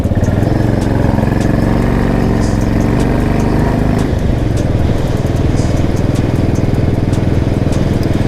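A motorcycle is ridden hard up a hill, its engine loud, steady and close, with a dense rumble that shifts in pitch about halfway through as the rider opens the throttle. Wind buffeting sits underneath.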